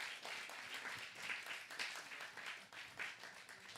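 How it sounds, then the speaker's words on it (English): An audience applauds the cooks at a religious gathering, a steady patter of many hands clapping for a few seconds, fairly faint and distant. "Please give a big round of applause to them."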